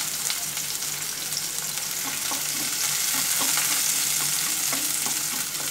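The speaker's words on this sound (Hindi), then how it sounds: "मैं ये अनियन इसके अंदर थोड़ा सौते कर लूँगी" Onions sauté over a high flame in a pan with crisp potatoes, producing a continuous close sizzle with soft stirring scrapes and small pops, with no voices.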